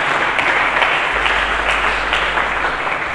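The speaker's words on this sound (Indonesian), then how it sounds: "Berikan tepuk tangan bagi Yesus" Congregation applauding for Jesus during a church sermon, a dense, steady wash of many hands clapping together, loud and sustained throughout.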